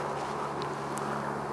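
Honey bees buzz inside a top bar hive as a soft, continuous low hum, faint and even, with no talking.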